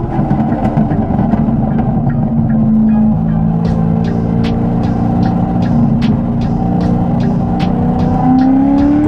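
A 2006 Corvette C6 revs hard and steadily up close, its loud engine note shifting as it downshifts, with a run of sharp crackling pops from backfiring on the downshifts from 4th to 3rd and 3rd to 2nd.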